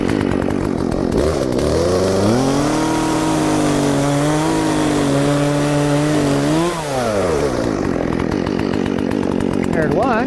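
A chainsaw cuts an apple tree branch during fruit tree pruning, its loud engine droning steadily through the whole stretch with pitch rising and sagging as the chain bites into the wood.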